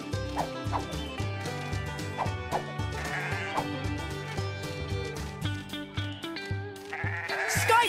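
Sheep bleating in a Paw Patrol video game, several short cartoonish bleats and animal calls over bouncy game music, with chimes and effects building toward the end.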